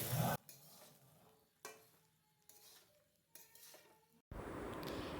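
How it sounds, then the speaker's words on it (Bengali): Rice being stirred and mixed in a pan for fried rice, with intermittent scraping strokes and a light sizzle, first in separate bursts and then settling into a louder, continuous frying sound near the end. "রাইস সমস্ত কিছুর সঙ্গে খুব ভালোভাবে মিশিয়ে নেওয়া হচ্ছে।"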